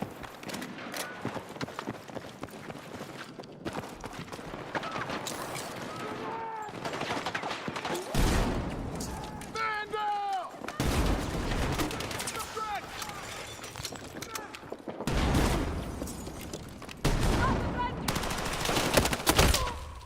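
Rapid gunfire bursts from a Battlefield 6 match crackle in repeated volleys, loud and close, mixed with game effects and a player talking over the action.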